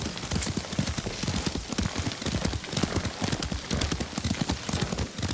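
Steady clip-clop of horse hooves at a brisk trot in the video game Ghost of Tsushima, continuous and fairly close, with a soft rain-like hiss underneath.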